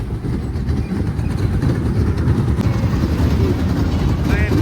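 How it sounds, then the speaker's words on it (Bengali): A toy train ride at a Boishakhi fair rumbles steadily and loudly up close, with continuous rolling noise and crowd chatter all around. "ট্রেন গাড়ি।"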